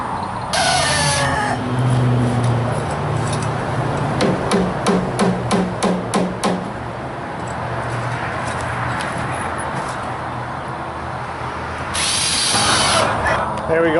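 A power drill runs in loud whirring bursts at the start and end while removing screws from a chicken coop cage door hinge, with a quick run of sharp tapping knocks in between and outdoor background hum.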